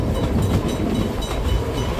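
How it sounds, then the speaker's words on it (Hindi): A train in Australia runs on its rails with a steady, dense rumble and faint rhythmic clatter, heard from on board, loud and continuous. "मुझे जो चीज़ सबसे अच्छी लग रही है इस ट्रेन में, इसकी आवाज़"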